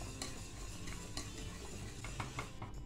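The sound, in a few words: stirring milk pudding while it cooks in a pot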